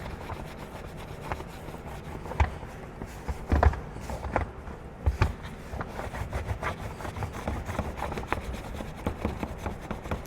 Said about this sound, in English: I'm kind of just bunching up the microfiber towel using my pointer finger to try to get into all the little nooks and crannies